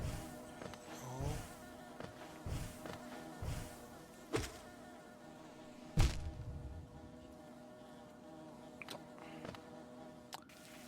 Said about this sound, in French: si je ne tue aucune abeille, ou je ne les tape pas